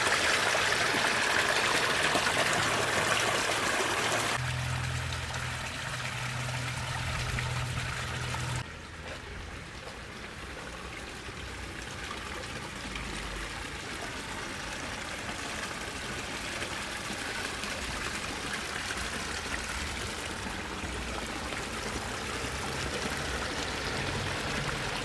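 Water pours down a DIY koi pond waterfall as a steady, soft, continuous trickle and splash. The tone shifts slightly partway through, and no one speaks.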